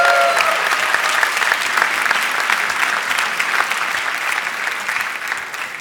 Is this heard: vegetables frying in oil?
no